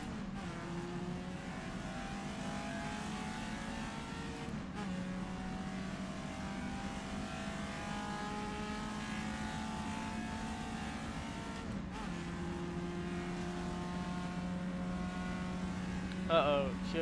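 A race car in a racing game hums with a steady engine drone as another car closes in, with pitch shifts and a brief louder swell near the end.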